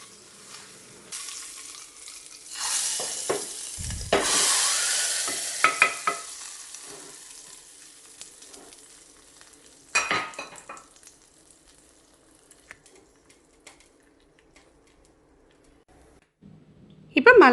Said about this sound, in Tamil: இப்போ நம்ம தாளித்து எடுத்து வச்சிடலாம்.